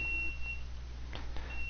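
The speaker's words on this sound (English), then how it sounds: "That's my washer beeping." Beeping from a washing machine at home, thin steady tones sitting over the constant hum and low background of a running game stream.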